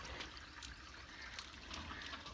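Water pours out of a large opened bottle in a steady, even trickle, fairly faint against a low rumbling background, running without pause.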